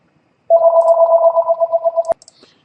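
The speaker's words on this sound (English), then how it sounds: "And we've got the phone ringing again." Close, loud electronic telephone ring trilling steadily for about a second and a half before cutting off abruptly with a click, followed by faint handling noises.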